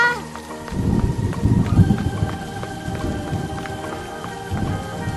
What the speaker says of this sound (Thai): พูดไม่ทันไรฝนตกพอดีเลย มาแล้วค่ะ